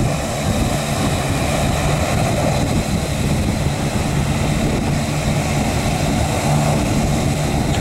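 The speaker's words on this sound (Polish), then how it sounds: "Samolot szykuje się do startu." Propeller airplane preparing for takeoff at Maho Beach, St Martin, its engine a steady, loud, continuous drone with broadband rumble throughout, no talk over it.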